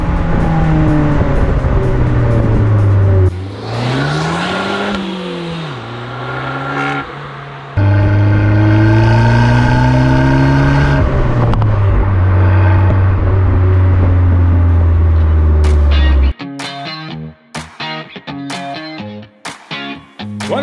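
An Abarth 595 compact sports car engine revs loudly and close, rising and falling through long climbing pulls, then breaks into short, sharp bursts of throttle near the end.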